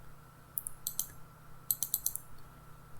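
A computer mouse clicks while someone wires a Tinkercad circuit, with small, crisp, close clicks arriving in two short clusters under faint room hum.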